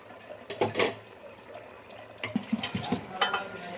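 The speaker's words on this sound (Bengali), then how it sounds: "মাছের ঝোলটা ফুটে উঠেছে।" A small-fish curry bubbles in an uncovered pan, giving soft, watery simmering with a few louder splashy bursts and light clinks, fairly close and without voices.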